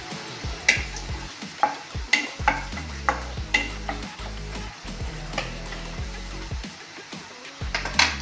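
Ginger-garlic paste is stirred into fish in a pan for an oil-free dish with cherry tomatoes: repeated close scraping strokes of a utensil against the pan over a soft sizzle, with a few light clinks.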